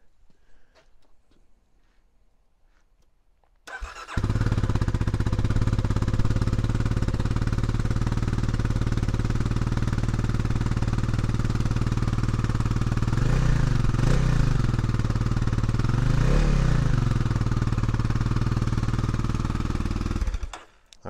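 A Kawasaki KLX300R dirt bike on its stock exhaust starts up and idles steadily for about sixteen seconds, a close, even engine drone with a couple of brief throttle blips near the end, no voices.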